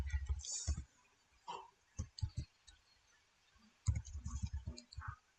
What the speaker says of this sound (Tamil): தமிழ்ல டைப் பண்ணா எப்படின்றத பார்க்குறோம் நம்ம